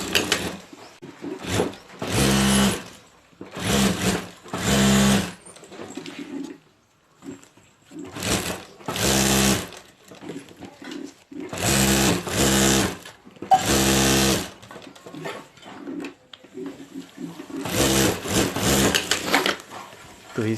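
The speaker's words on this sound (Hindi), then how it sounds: "यहाँ एक ऊपर सिलाई कर देनी है हमें" A sewing machine stitches the lining of a homemade handbag, running in loud close bursts of rapid mechanical whirring, each lasting a second or two, separated by short quiet pauses.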